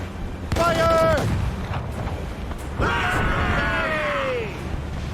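Ship cannons firing during a naval battle in the video game Assassin's Creed Rogue, loud booming blasts mixed with shouted crew voices and battle noise.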